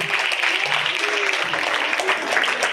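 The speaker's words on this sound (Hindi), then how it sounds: "एक बार जोरदार तालियां होनी चाहिए" A participant audience at a Hindi quiz session gives a burst of steady, fairly loud clapping, mixed with faint voices beneath the applause.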